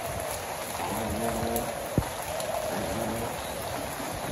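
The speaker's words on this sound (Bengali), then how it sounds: "বৃষ্টি আস্তে আস্তে বার বানছে" Rain falls steadily over a village home, a dense, even hiss of drops with a single brief knock partway through and no voices.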